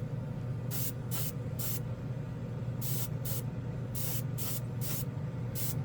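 A $40 NEOECO airbrush spraying paint in about nine short, sharp bursts of airy hiss with brief gaps between them, over a steady low background hum.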